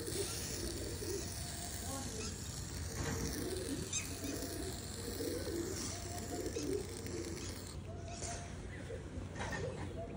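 Pigeons cooing steadily close by while the birds' feathers are being coloured, with soft rustling and handling noises and someone talking intermittently over them.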